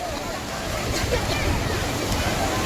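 A speedboat ride on the sea at Digha gives steady rushing water and wind buffeting the microphone, continuous and close, with voices speaking over it.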